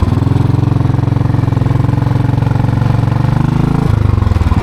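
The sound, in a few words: motorcycle engine running, rider shifting gear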